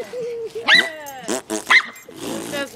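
A dog barks and growls close by in a run of loud, rough bursts with whiny tones between them, while people urge it on.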